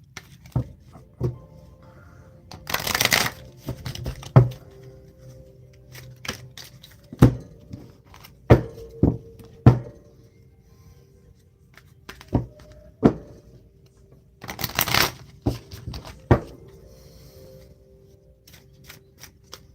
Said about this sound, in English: We shuffling for you.